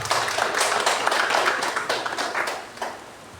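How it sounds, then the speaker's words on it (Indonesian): A church congregation claps together in a steady, fairly loud burst of applause that fills the room, with no talking over it. "Tepuk tangan buat Tuhan Yesus."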